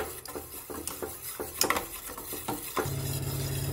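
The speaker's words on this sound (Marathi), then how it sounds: "मी थोडंसं जास्तच बेसन पीठ टाकणार आहे आणि पूर्ण बेसन पीठ याच्यात मिक्स करणार आहे" Gram flour stirred into buttermilk for Maharashtrian kadhi, with a spoon scraping and clinking against the bowl in quick uneven strokes, close and moderately loud, followed by a steady low hum at the end.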